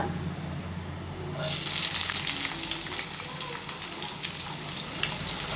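Sliced onions dropped into hot oil for a mutton fenugreek curry; a quiet background gives way at once to a loud, close, sustained sizzle that keeps crackling steadily.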